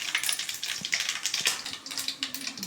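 Spices and bay leaves crackling and sizzling in hot oil, a steady bright spitting and popping sound, close and fairly quiet, with no talk.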